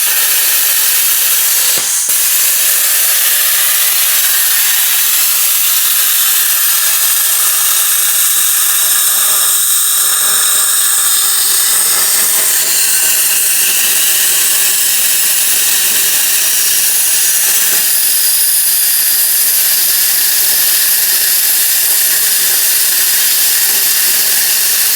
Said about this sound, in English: see if a little skill can cut a piece of 3/4 with this little plasma